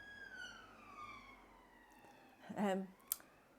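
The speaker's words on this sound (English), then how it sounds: "Wait for the police car." A police car siren sounds faint and distant, a single steady tone slowly falling in pitch beneath quiet room noise, followed by a brief louder knock near the end.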